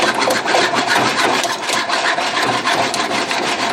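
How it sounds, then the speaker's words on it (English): An old, dull, gummed hacksaw blade rasps through a turkey leg clamped in a vise, giving a steady, close, scratchy sawing sound with no break. "This old hacksaw has sawed many a turkey leg."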